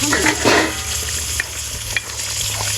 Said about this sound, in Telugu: దీన్ని ఇలా కలుపుకుంటూ కలుపుకుంటూ కలుపుకుంటూ బాగా చిక్కగా అవ్వాలమ్మా